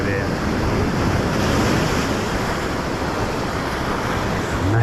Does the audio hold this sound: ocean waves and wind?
yes